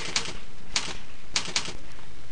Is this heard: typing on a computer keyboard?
yes